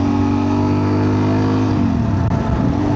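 A Suzuki DR-Z 400 motorcycle engine buzzing steadily at high revs while cruising at speed, loud and close with a sustained harmonic drone that shifts slightly toward the end, and no voices.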